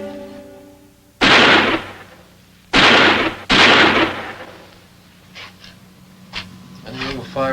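Gunfire in a 1959 police drama: three loud, sharp shots with ringing decays, the last two close together, followed by quieter sounds and voices.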